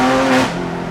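A 600-horsepower DeMan 4.5-litre GT3 engine pulls hard under acceleration, a loud close-up howl with strong harmonic tones that hold and then ease off as the revs change.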